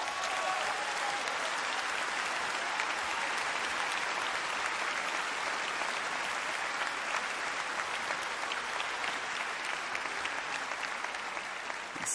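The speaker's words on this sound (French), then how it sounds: "Vous pouvez les applaudir très fort" A large audience at a political party congress applauds a circus family, the Bouglione family, with dense, steady clapping that holds at an even, moderate level throughout.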